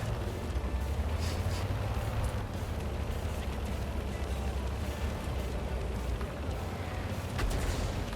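Artillery shell explosions rumble nearby in World of Tanks, a dense, continuous low booming roar with scattered crackling bursts that holds steady loud throughout.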